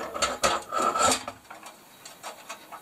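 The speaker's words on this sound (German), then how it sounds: "Sägeband ist gelöst, jetzt muss ich nur noch durch den Tisch durchziehen" A loosened band saw blade is drawn through the slot of the saw table while the saw is converted for fine cuts. A rough rubbing rasp of metal against the table, louder at first, then fading to faint scrapes.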